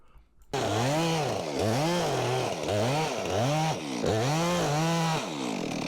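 Chainsaw bucking a large red oak log into firewood lengths, the engine loud and close, revving and bogging in repeated cycles as the chain bites through the wood.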